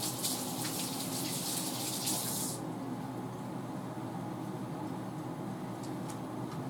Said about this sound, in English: I'll wash my hands right quick.